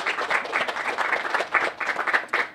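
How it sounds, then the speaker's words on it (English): A small audience claps steadily, a dense patter of many hands close by that keeps going without a pause. "let's give them an applause and thank them for sharing their time with us"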